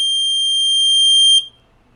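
A loud, piercing electronic beep from an Arduino Nano ultrasonic-sensor buzzer holds steadily for over a second, then cuts off abruptly into near silence.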